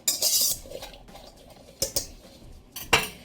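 Chopped vegetables and egg mixture are tossed in a bowl, with a few short clattering bursts of utensil against dish separated by quiet pauses, close and crisp.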